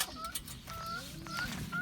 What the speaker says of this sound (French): je vous explique pourquoi il y a une poule là-dedans